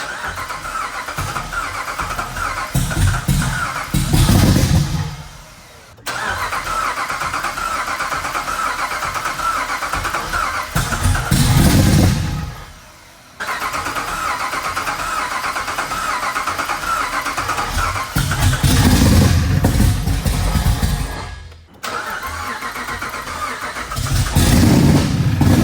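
A cammed Jeep engine cranks and fires up several times after a battery reconnect, each attempt a loud, rough run lasting several seconds before it cuts out, close to the microphone with no talking.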